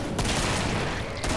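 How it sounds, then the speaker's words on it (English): Gunshots in the woods in the video game Killing Floor, a dense rattling fusillade of overlapping shots at steady loudness, fairly close, with no speech over it. "Random shots in the woods!"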